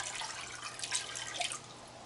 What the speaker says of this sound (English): I'm going to stir it back up again and pour it